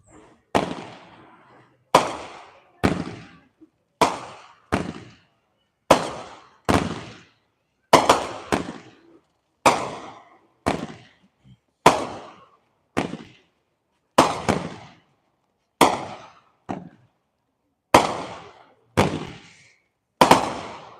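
A Great Grizzly Titan 12-shot firework cake fires a long series of sharp, loud bursts, each cracking out about a second apart with a brief decaying tail, alone on an outdoor demo night.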